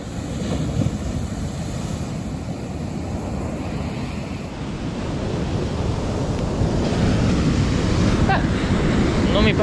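Ocean waves and wind on the Azores coast at São Miguel, a dense continuous roar of surf with heavy wind buffeting the microphone, loud and steady and swelling slightly toward the end.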